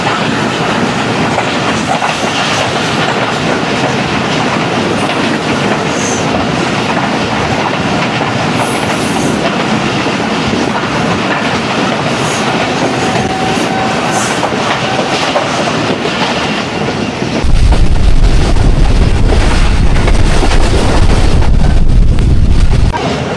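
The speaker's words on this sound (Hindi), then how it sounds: "लेकिन हाँ गुड्स ट्रेन है दोस्तों ये" A goods train rolls past a moving passenger train near Lakha Road station in Sindh, its wagons giving a steady, loud clatter of wheels on rails. Low rumble swells toward the end, with no talk.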